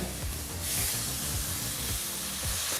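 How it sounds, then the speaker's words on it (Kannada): Tomatoes frying with chili powder in a pan give a steady close sizzle and hiss, with soft stirring scrapes and no voices. "ಒಂದು ಮೂರರಿಂದ ನಾಲ್ಕು ನಿಮಿಷನಾದರೂ ಟೊಮೊಟೊ ಹಣ್ಣನ್ನು ಚೆನ್ನಾಗಿ ಫ್ರೈ ಮಾಡ್ಕೋಬೇಕು"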